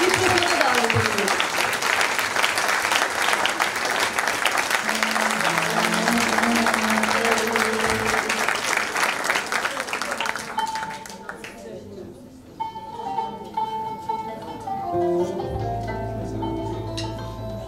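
A concert audience gives loud, dense applause for about ten seconds as a singer is invited to the microphone, then the clapping fades out as music begins.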